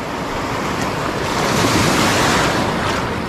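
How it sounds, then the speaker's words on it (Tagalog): Loud, continuous surf roars as ocean waves wash in, swelling slightly midway, with wind buffeting the microphone. "Alon."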